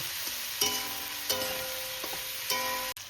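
Radish, pointed gourd and cauliflower and radish stalks fry in a pan, a steady close sizzle broken by several scraping, ringing strokes of a stirring utensil.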